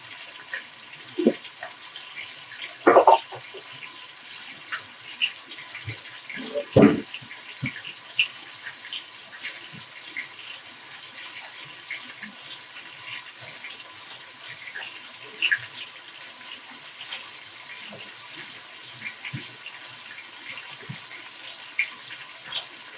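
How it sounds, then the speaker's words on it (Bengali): Tap water runs over cinnamon sticks and bay leaves being rinsed while cooking beef kosha, a steady close hiss of flowing water with a few sharper splashes and knocks along the way. "দারচিনিয়া তেজপাতাটা সবসময় ধুয়ে দেওয়ার চেষ্টা করবেন"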